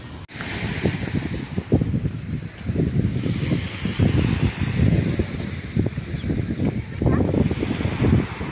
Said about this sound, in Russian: Замечательное море, видите, какое спокойненькое,